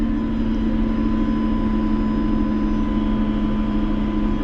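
JCB Fastrac 4220 tractor engine held at steady revs on hand throttle, a loud, constant low drone with a strong tonal hum and some cab whine, heard alone without talk.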